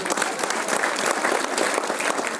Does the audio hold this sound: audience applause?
yes